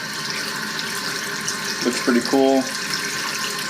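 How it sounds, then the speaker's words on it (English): A waterfall-style bathroom faucet with color-changing lights runs a steady stream into a sink, a continuous wash of water under a brief spoken remark. "you can see that's a decent amount of water with the waterfall there"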